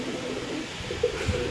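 A teddy male pigeon being handled at a pigeon market gives low, rounded coos close by, a brief throaty burble over quiet background noise.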